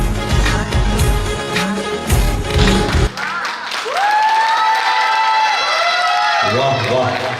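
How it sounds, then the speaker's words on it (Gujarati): Loud, dense clapping from the audience at a women's gathering and sarod festival cuts off abruptly after about three seconds, giving way to quieter tonal sounds. "એકવાર જોરદાર તાળીઓ થઈ જવી જોઈએ"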